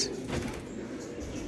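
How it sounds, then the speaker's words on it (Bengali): A Madrasi pigeon's soft, low coo sounds briefly against a hushed indoor background with faint rustling. "মাদা পায়রা, এটা মাদা পায়রা, জ্যাক মাদা"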